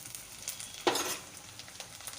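Garlic paste fries in oil with onions, a quiet low sizzle with one distinct stirring scrape partway through and faint crackles around it.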